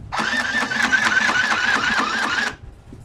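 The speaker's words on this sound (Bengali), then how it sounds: "এই যে এখন সেলাই করছি, এই যে দেখেন সেলাই হচ্ছে।" A VOF mini sewing machine, model 202/212, runs steadily and loudly for about two and a half seconds with a fast rhythmic whirring hum, then stops abruptly.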